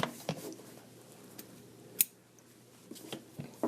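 Scissors snip red yarn during crochet work, a few faint close clicks and cuts spread over a quiet background.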